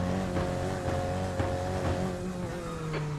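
Race cars in the iRacing simulator hum along with a steady engine tone, with repeated short whooshes and tire noise punctuating the drone at a moderate, even level.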